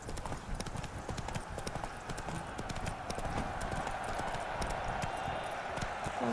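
Horse hooves clip-clop in a quick, steady galloping rhythm in The Witcher 3: Blood and Wine, a continuous dense patter under a faint background hum.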